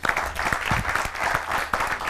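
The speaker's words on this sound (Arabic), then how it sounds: "تصفيق له" Brief burst of audience applause for a magician on a television show, dense clapping with a few sharp individual claps standing out, loud and close.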